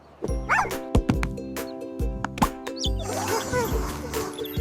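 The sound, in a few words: dog barking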